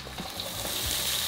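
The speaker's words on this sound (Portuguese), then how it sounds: "Enquanto a linguiça vai assando ali, então já vamos começar também a dourar o queijo coalho." Linguiça sausage fries in a pan with a continuous, close hissing sizzle that stays even and slightly swells.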